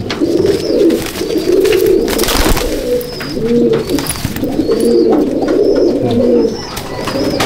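Teddy pigeons coo repeatedly in a loft, several birds layering low rolling calls continuously and close by, with faint higher chirps and rustling behind them.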